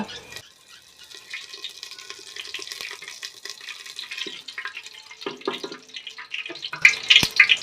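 Bay leaf dropped into hot oil for handi mutton sizzles and crackles in quiet bursts, growing louder toward the end with sharp spitting pops.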